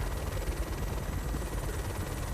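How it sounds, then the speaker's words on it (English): A helicopter in the video game Good Kill gives off a continuous, even rotor and engine drone, steady and fairly quiet throughout with no talking. "It looks like our helicopter's probably not gonna last much longer."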